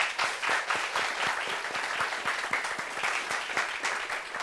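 Studio audience applauding steadily on a talk show set as a guest photographer from Koumassi is welcomed, dense overlapping claps filling the whole stretch at an even, loud level.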